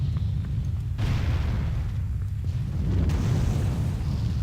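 Gunfire hitting the player in World of Warcraft, a few heavy booming blasts with deep rumbling tails about a second apart, loud and close, with no talking.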